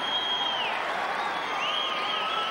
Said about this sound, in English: the Findlay fans give him a round of applause